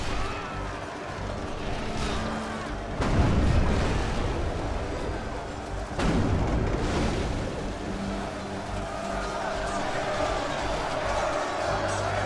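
Artillery bombardment during a dwarven hall siege in the strategy game Total War Third Age Reforged, with heavy booming impacts near 3 and 6 seconds over a constant loud battle rumble and din.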